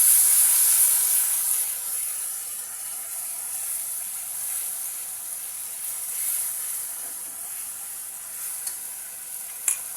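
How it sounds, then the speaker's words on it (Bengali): Spices sizzle and fry in a pan for mochar ghonto, a steady close hiss throughout with an occasional stir, no talking. "মশলা ফ্রাই হতে লাগবে ভালো করে।"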